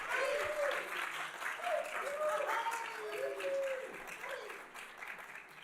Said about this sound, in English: Big, big, big round of applause.